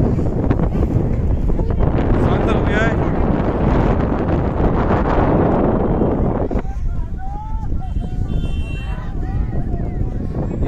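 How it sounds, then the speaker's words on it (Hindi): Strong wind roars across an open microphone during snowfall at Rohtang Pass, a loud, continuous buffeting that eases slightly toward the end. "बहुत ही जोरदार हवा चल रही है यहाँ पे"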